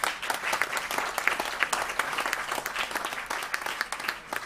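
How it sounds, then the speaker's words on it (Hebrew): Audience at a youth music competition final concert applauding the contestants, a steady, dense wash of many hands clapping at even loudness throughout. "מחיאות כפיים לכל המתמודדים."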